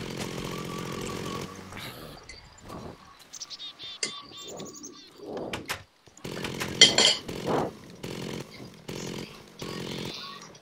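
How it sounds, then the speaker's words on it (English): A Minecraft Tekkit chainsaw buzzes in short bursts as it cuts, broken by pauses and game sounds including chirping bird calls, with the level rising and falling from one burst to the next. "I think the chainsaw, the chainsaw is really good because it's like a silk touch"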